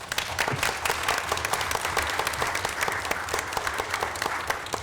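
Audience applause fills a city council meeting room in Linden: brisk, dense clapping from a modest crowd, steady and fairly close for about five seconds with no talking.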